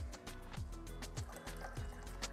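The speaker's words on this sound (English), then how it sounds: "Ooh, sparkling water." Sparkling water poured during a cooking session, with a steady fizzing, splashing trickle that runs throughout alongside clinks and handling noises, fairly close.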